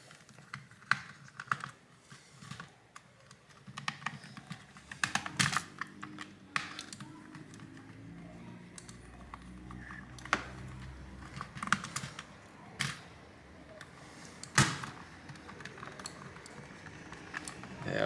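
Small, faint, irregular clicks and scrapes from a Phillips screwdriver as screws are removed from a GameSir X2 Bluetooth controller, scattered sparsely across a quiet room.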